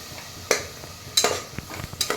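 Ground masala being stirred into golden fried onions in a pan, with a few sharp scraping clinks of the spoon over a soft, steady sizzle, alone without talk.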